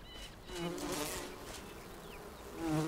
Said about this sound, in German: Ja, hier ist ein Bienenschwarm